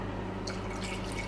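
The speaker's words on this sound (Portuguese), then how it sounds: "Agora é só colocar a aguinha aí dentro." Filtered water pours steadily into a pot of beans for feijoada in a home kitchen, a continuous close liquid splash and trickle with faint dripping, no talking.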